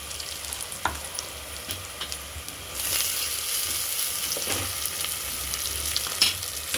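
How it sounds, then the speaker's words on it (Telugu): Ginger and garlic sizzle steadily in a hot pan for a mutton curry, close and continuous, with faint stirring clicks; the frying grows louder and denser partway through, and no one speaks. "పచ్చివాసన పోయే వరకు అల్లం వెల్లిగడ్డ వేయించుకోవాలండి"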